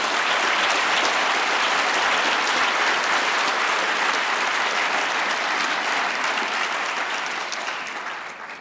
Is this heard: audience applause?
yes